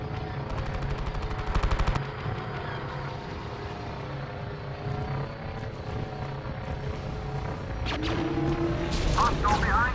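Bomber attack in the Star Wars Battlefront video game: rapid bursts of machine-gun fire over a constant roaring engine drone, with a burst of sharp shots and blasts near the end, loud and dense.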